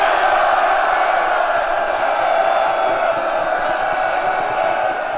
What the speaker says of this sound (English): thank you for what I've been told is applause